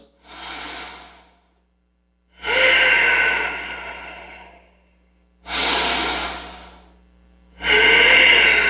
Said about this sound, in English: Big inhale. Big exhale. Big inhale. Full and complete exhale. 3 more breaths.